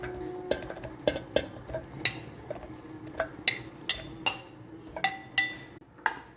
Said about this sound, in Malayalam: മിക്സിയിലേക്ക് കട്ട് ചെയ്ത പീസസ് ഇടുന്നുണ്ട്